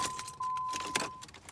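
Car keys fall loose and jangle with bright metallic clinks close by, accompanied by a steady electronic chime inside a Chevy.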